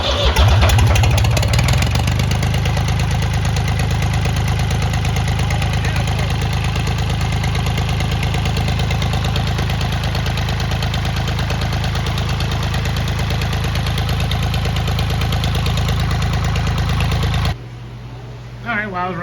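A Ford 4000 tractor with its muffler removed cranks briefly, then catches and runs at a loud, steady, raw idle close up, before the sound drops off sharply near the end.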